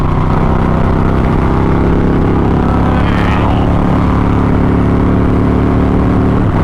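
A 2008 Harley-Davidson Crossbones motorcycle at riding speed in an informal race, its loud, steady low engine drone mixed with wind rush throughout, with no break in the roar.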